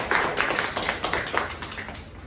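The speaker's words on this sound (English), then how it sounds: "Can we clap?" Small audience at a Toastmasters club meeting claps for a speaker after an icebreaker speech, a brief burst of scattered hand claps from a few people that fades out within a couple of seconds.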